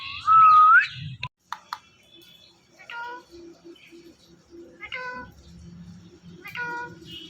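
A pet parrot named Mittu mimics a cat's meow: one loud, rising meow up front, then several shorter, tonal meow-like calls spaced apart, with a person speaking softly in between.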